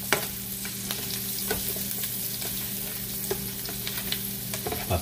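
Garlic sautés in a pan for cauliflower fried rice, giving a steady close sizzle broken by occasional scraping stirs of a utensil, with no voices.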